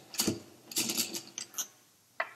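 Bolts are loosened and removed from a Macnaught MX series flow meter, giving a handful of close metallic clicks and ratcheting scrapes in short irregular bursts, with a final sharp tick, and no speech.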